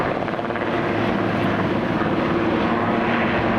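A wildfire-fighting helicopter carrying a large water tank roars steadily and loudly overhead, a continuous dense rotor and engine drone with no talk.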